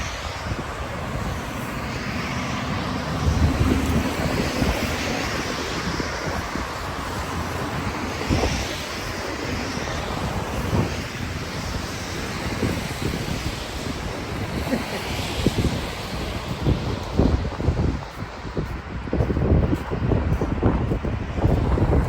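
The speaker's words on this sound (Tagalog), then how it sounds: "Sarap ng hangin." Strong wind gusts buffet the microphone on an outdoor walk at Coach Hill, a continuous loud rushing roar that surges and eases throughout, with faint voices barely audible underneath.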